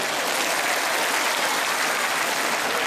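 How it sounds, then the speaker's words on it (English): A church congregation at a New Year anointing service claps in praise, a dense, even wash of many hands applauding continuously at moderate level with no talk. "Give God the best clap of praise."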